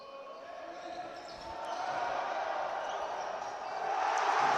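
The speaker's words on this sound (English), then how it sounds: "you hear the roar from the crowd" A crowd roars at a university varsity basketball game between Man Met and UoM in Manchester. The broad noise swells gradually and grows louder toward the end, with commentary running over it.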